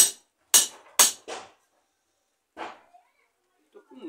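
Sharp, loud knocks from striking the thick rod piece of an ionic long-range detector: three quick blows in the first 1.5 seconds, then a fourth after a pause, each ringing briefly, with faint rustling near the end.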